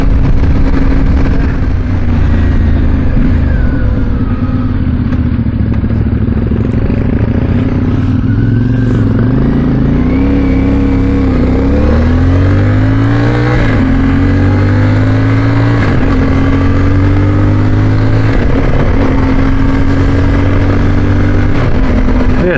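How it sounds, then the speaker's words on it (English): A brand new CFmoto 450MT motorcycle engine idles loud and close, then revs repeatedly, its pitch rising and falling in several blips over a rough, steady rumble. "I don't want to rev it too hard, it's a brand new bike."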